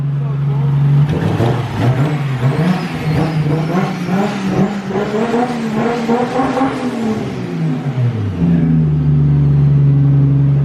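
A Nissan Skyline sedan engine with a muffler revs hard and steadily on a dyno for several seconds, pitch climbing and holding, loud and close, then drops back to a lower idle.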